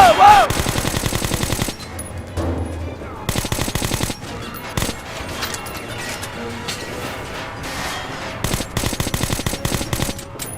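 Submachine gun fire in Metro Last Light, sounding as sharp rapid automatic bursts separated by short pauses, loud and close, with crashes and mechanical clatter between the volleys.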